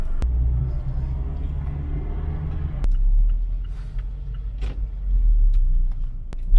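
Steady low rumble of road noise inside a car without air conditioning, heard from the cabin while driving, with a few sharp clicks over the continuous drone and no talking.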